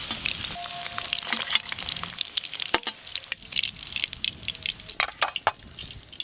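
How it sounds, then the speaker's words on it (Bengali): Eggs frying in hot oil in a pan for an egg curry give a lively, continuous sizzle with frequent crackling spatters and scraping stirs, close and moderately loud, no voices. "ডিমগুলো ভাজতে আর একটু সময় লাগবে"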